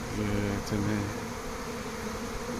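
A honeybee swarm buzzes at an apiary in Santeny, with close insect drones passing near over a dense, fainter background hum.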